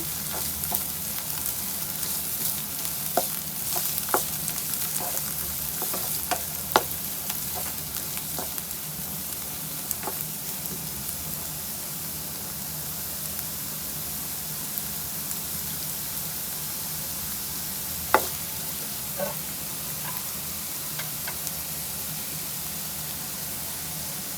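Onions fry in a pan with a steady, even sizzling hiss, broken by occasional sharp pops and crackles, close up and with nobody speaking.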